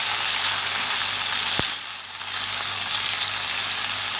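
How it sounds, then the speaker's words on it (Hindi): Chana dal masala frying in a pan gives a steady close sizzle as a half tomato goes in, with one brief splash and a short dip in the crackle before it picks up again. "इसलिए मैं ये हाफ़ टमाटर डाल रही हूँ।"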